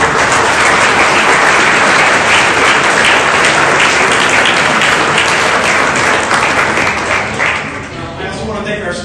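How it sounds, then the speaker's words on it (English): Loud, close applause from a crowd at an evening celebration, a dense unbroken wash of many hands clapping that carries on for several seconds and eases slightly near the end. "Round of applause."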